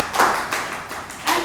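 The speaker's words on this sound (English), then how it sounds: "So a big round of applause." Clapping at a Toastmasters club meeting, a few close, distinct hand claps with soft taps between them and no voices.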